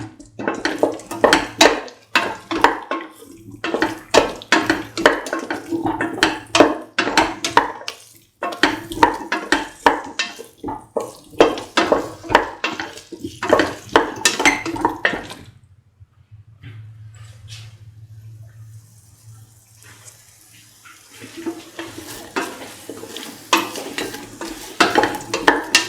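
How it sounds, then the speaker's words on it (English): Garlic potato rice is stirred and fried in a pan with rhythmic spoon scrapes and clatter over a sizzle, the stirring in repeated bursts, then a quieter stretch of sizzling alone before the stirring resumes. "Salt and mix thoroughly."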